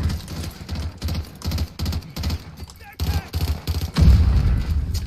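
Repeated bursts of gunfire in the video game Warzone, several quick volleys in a row with heavy low thumps, loud and close, with a voice talking underneath.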